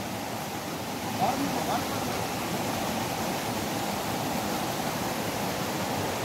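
Water from a small waterfall near Lepcha Falls pours down rocks in a steady, broadband rush, loud and continuous throughout, with a faint brief sound near the start.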